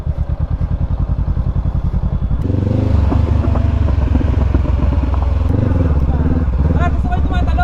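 A motorcycle rides over a rough, partly unpaved road between Pangasinan and Zambales, its engine chugging in a steady rhythmic pulse before rising into a louder, uneven drone with bumps and clatter; a rider talks over it.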